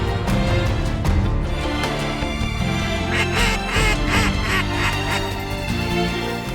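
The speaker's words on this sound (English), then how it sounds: "We had mallards dropping in front of us" Mallard ducks quacking on an opening-day hunting morning, a busy overlapping chorus of loud nasal quacks and calls close by, continuous throughout with no talk.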